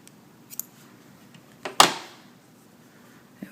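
Scissors snip through the yarn tail of a loom-knit asymmetrical picot triangle shawl, a single sharp close cut standing out from a quiet room, with a few faint taps before and after.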